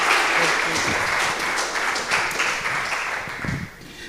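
An audience at a book launch claps steadily for a panel, a dense patter of applause lasting throughout and slowly thinning toward the end.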